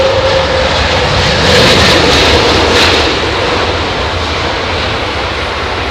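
Loud, steady roar of an airliner landing at London Heathrow in low visibility, engine noise swelling briefly midway as thrust reversers deploy, then holding as a broad continuous rumble.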